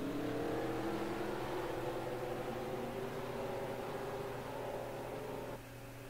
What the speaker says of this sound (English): Let's fire the engines.